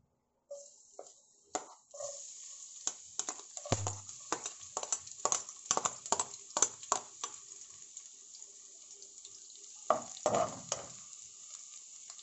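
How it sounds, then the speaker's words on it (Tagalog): Onion and garlic being sautéed in a pan for pork menudo: a steady close sizzle runs under repeated scraping, clacking stir strokes that come in irregular bursts, with no talking. "Magsosote na ako dito ng ating sibuyas tsaka bawang."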